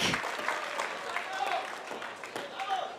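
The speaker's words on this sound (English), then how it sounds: "The crowd rallying behind Jaume Martinez Vich." Spectators at a professional pickleball match at the Las Vegas Pickleball Cup break into sustained applause, a dense wash of clapping from a crowd. A commentator talks over it.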